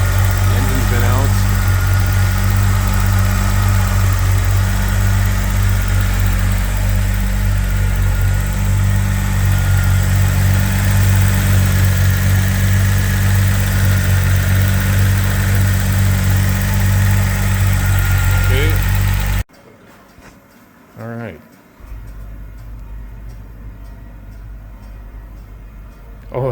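A restored Renault Alpine GTA sports car idles steadily at close range, a constant engine drone with a faint voice over it, then it cuts off abruptly and leaves quieter outdoor ambience with a few brief knocks.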